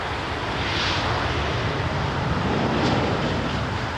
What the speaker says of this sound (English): Oh, I hear a jet.